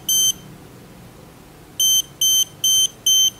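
A Habotest voltage detector beeps near a live wire, giving one short high electronic tone followed after a pause by four evenly spaced beeps, loud and close over faint room noise.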